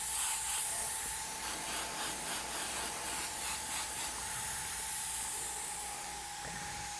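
An airbrush hisses in light spraying passes of paint, a soft airy spray with a faint steady whine underneath, close and continuous with slight pulsing as coats are laid on.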